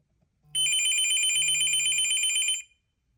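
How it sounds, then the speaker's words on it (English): An iPhone rings for an incoming call with a bright, trilling electronic tone, two bursts back to back lasting about two seconds, clear and alone. "The iPhone is ringing."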